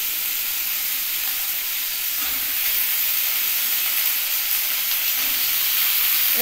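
Green peas tipped into a frying pan for a cauliflower roast with tomatoes give off a steady, even sizzling hiss throughout, with no voices.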